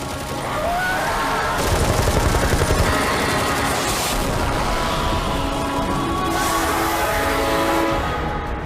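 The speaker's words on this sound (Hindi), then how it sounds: "गोलियां चलाते रहो।" Dense, continuous gunfire roars throughout, bursts overlapping into a sustained heavy barrage with no pauses or voices.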